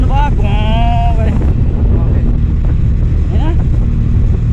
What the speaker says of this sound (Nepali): उहाँले चाहिँ ट्रम्प बाइक ल्याउनु भएको छ, 800 सिसीको ट्रम्प आउ सुन्नुभयो